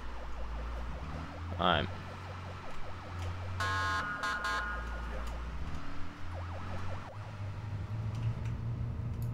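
Police sirens wailing in Arma 3 along a city road, several rising and falling siren cycles at moderate distance over a steady car engine drone, with a brief horn-like tone and a short spoken word.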